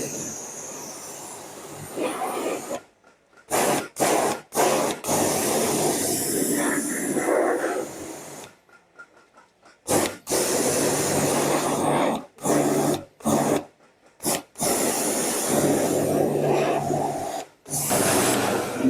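A Suzuki Gixxer motorbike being washed with a high-pressure water spray, a loud steady hiss broken by several short pauses as the jet stops and starts; a voice talks briefly at times.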